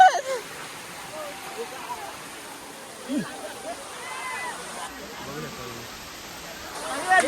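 Steady rushing water from a waterfall fills the scene, with people talking intermittently over the constant roar.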